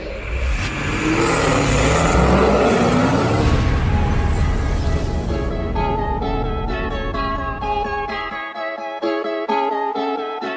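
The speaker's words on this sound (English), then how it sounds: "so we got this Hellcat here on the dyno." A Dodge Hellcat strapped to a dyno roars loudly at sustained high revs, a dense continuous engine howl that holds for most of the stretch before easing off near the end, close and unaccompanied by talk.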